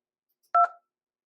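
A single short DTMF keypad tone sounds as the 2 key is pressed in a phone IVR support menu, a clean two-note electronic beep in otherwise near silence.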